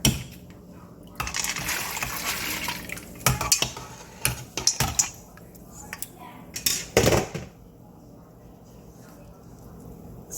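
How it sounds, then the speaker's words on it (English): Cooking pot clatter as filtered beans are added to hot water at a home stove, with irregular knocks and scrapes of a spoon against metal and a soft splash, close and moderately loud, with brief quiet gaps between clusters. "I've already filtered the base, so I'm just going to add it to the hot water"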